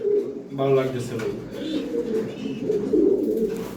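Racing pigeons in a loft coo in low, throaty, repeated rolls, close by and layered over one another, with soft people's voices in the background.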